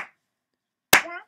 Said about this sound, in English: So I'm just clapping my hands here.